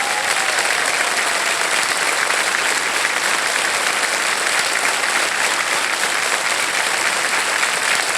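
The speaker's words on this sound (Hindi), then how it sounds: "ताली बजते रहे" Studio audience on a TV quiz show applauding a contestant's correct answer, with sustained dense clapping throughout, loud and close, with no talk over it.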